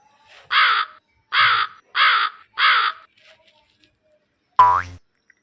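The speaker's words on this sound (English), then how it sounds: "CROW, crow." A crow caws four times in clear, loud, evenly spaced calls, then a brief cartoon boing sound follows after a pause.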